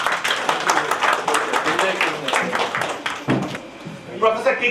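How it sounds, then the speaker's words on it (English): Audience at a national seminar applauding the Vice Chancellor, a close, dense burst of many hands clapping that holds steady for several seconds before tapering, with some talk underneath. "And now we honor him by clapping."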